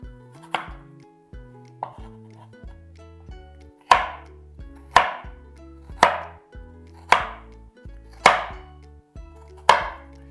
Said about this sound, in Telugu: క్యూబ్స్ కట్ చేసేటప్పుడు